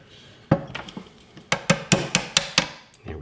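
A hammer taps pins into a Ruger American rifle's MDT chassis, a few scattered light knocks followed by a quick, even run of about seven sharp metallic strikes, close and alone.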